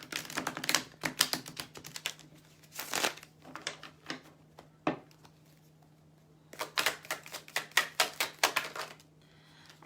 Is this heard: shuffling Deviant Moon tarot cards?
yes